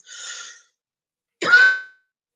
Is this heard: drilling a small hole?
no